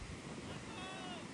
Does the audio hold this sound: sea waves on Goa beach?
yes